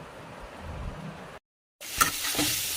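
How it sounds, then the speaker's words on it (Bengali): Spinach (saag) cooks in a pan with a steady sizzle and stirring. The sound breaks off into a brief silence, then returns a little louder with a few sharp crackles. "এখানে চলছে শাক রান্না"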